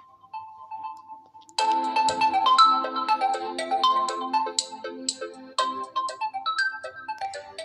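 A soft single tone gives way to a bright, melodic Realme 7i phone ringtone that plays a quick repeating tune, clear and fairly close.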